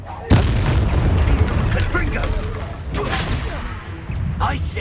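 Confringo fire spell exploding during combat in the Hogwarts Legacy video game, a sharp loud blast followed by rumbling debris and crackling, with further softer bursts trailing behind.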